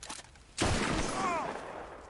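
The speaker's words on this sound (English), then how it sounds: "I shot him in the goddamn back" Sharp gunshot in Red Dead Redemption 2 cracks out once, loud and close, after a short lead-in and over a lingering noisy game backdrop with faint voice-like tones.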